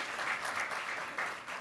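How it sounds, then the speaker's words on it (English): A lecture audience at the Explorers Club gives a short, soft round of applause, a muted wash of many hands heard from a distance. "a big round of applause for you for coming"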